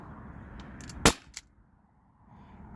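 An Umarex HDP50 air pistol fires a single sharp, loud shot sending an 8.4 gram steel ball bearing through a chronograph, followed by a brief fainter click, then quiet.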